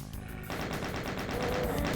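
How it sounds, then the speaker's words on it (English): Pistol fire in the Doom video game comes as rapid repeated shots, a dense, steady volley of gunfire heard close and loud with no voices. "Who's shooting at me? I heard a pistol."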